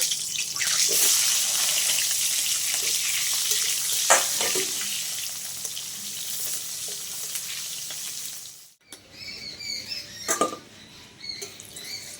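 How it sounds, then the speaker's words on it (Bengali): Potatoes fry in oil in a wok with a continuous hissing sizzle and occasional pops; after a short dip the crackling returns, sharper and more sputtering. "আলুগুলো ভেজে নেবো আগে"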